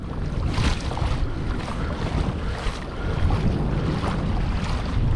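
Rough marsh water slaps and churns around a pedal-drive kayak while steady wind buffets the microphone, a continuous loud roar with surging splashes throughout.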